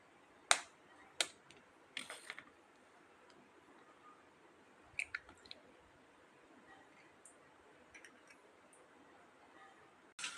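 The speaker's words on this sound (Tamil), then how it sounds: "இப்போ நம்ம முட்டையை உடச்சி ஊற்றிக்கலாம்." Eggs cracked on a rim and poured into a bowl while preparing veg egg idli, a few sharp close clicks and snaps spaced apart with quiet kitchen pauses between.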